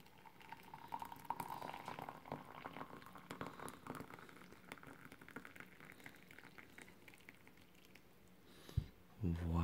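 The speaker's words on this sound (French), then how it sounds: "il faut juste ajouter de l'eau chaude" Hot water poured into a container, a soft continuous liquid hiss and trickle running under a voice, faint throughout, ending with a brief louder splash.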